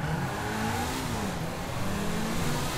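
A dragster car accelerates hard in GTA 5, a loud continuous engine roar with rising and shifting pitch that holds steady throughout, with no talk over it.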